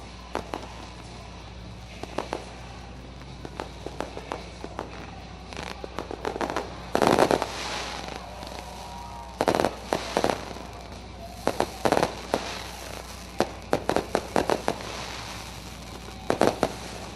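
Fireworks bursting and crackling at a distance over Ohsweken Speedway, a series of pops and sharp bangs spread out over time against a low background rumble.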